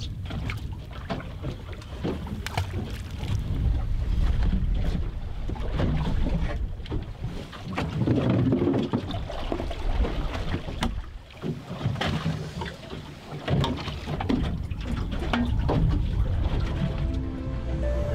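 A boat engine drones steadily over rushing sea water and wind buffeting the microphone, continuous and close, with no voices, near Grand Connétable island.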